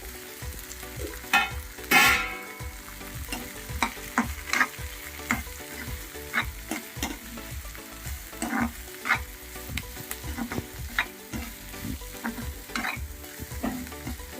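Small cubes of paneer and carrot fry in a pan with a steady close sizzle, broken by repeated scrapes and clinks of a spatula stirring them throughout, with no talking.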